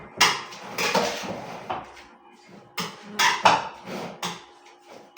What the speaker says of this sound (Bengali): শাক একটু নিচের শাক উপর উপরের শাক একটু নিচে করে দিচ্ছি